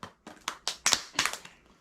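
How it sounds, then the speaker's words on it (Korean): Three sharp hand claps close by, then several more quick claps, loud and alone with no voices, during a children's Korean alphabet lesson at home. "정답 박수 세 번"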